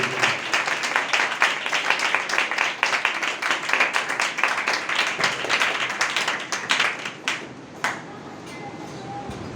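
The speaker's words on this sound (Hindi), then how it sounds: "आइए ताली बजाकर प्रभु के धन्यवाद।" A church congregation claps together in a fast, steady rhythm that continues for several seconds, then thins out and fades near the end, with voices faintly mixed in.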